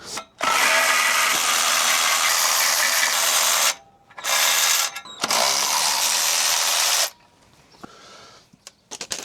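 Clutch removal on a 2011 Vauxhall Corsa 1.2: loud, close, harsh whirring bursts from a power tool, three long runs separated by short pauses, then quieter clicks and workshop rattles near the end.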